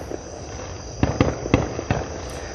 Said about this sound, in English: I'd say that's got to be the fireworks show just getting started right now.